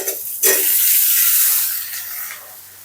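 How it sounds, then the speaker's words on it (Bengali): Potato pieces dropped into hot oil with half-fried onion for a katla fish curry, a sudden loud hiss after a short pause that settles into a steady bright sizzle and then fades slightly, close and alone. "আলুটা একটু ভাজতে থাকি"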